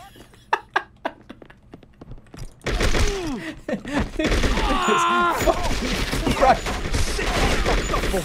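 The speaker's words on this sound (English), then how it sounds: "stop shooting the gun" Video game gunfire: a few sharp isolated shots at first, then a dense, loud burst of rapid firing and clatter that continues to the end, with faint voices under the shooting.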